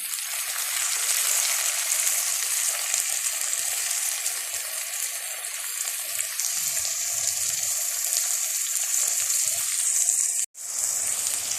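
Chopped medium-sized tomato frying in a pan with onion and garlic for a radish and spinach curry, giving a steady, close, continuous sizzle with watery hiss, briefly cut off near the end before resuming.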